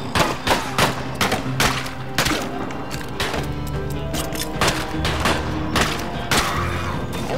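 Rapid gunfire bursts and explosive booms from the video game Colt Canyon, loud and dense over game music, with shots piling up in quick volleys throughout.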